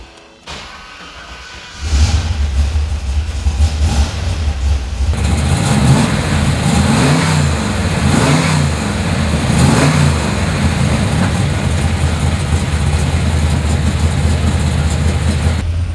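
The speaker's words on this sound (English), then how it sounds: "How about I start it for you so you can hear what it sounds like." A 1970 Chevy Chevelle SS pro touring convertible with a big block V8 cranks and fires into a loud, rumbling idle. The engine is revved several times in rhythmic blips, close up and without talking.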